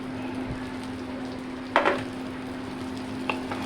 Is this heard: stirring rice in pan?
yes